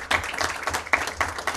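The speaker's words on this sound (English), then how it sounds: "Give them a round of applause if you would." A small audience at a school district public meeting gives a brief, scattered round of applause, with individual claps clearly distinct.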